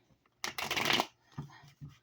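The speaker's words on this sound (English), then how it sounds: "What is going on with the cards? They do not want to shuffle for Gemini." Tarot cards being shuffled by hand, a long dense riffling burst followed by two shorter bursts of card shuffling, close and fairly loud with no talk.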